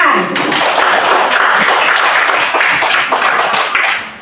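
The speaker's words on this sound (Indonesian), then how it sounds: "Coba tepuk tangan." Students in a classroom clap loudly and close by, a brisk, fairly dense burst of hand claps that continues steadily before trailing off at the end.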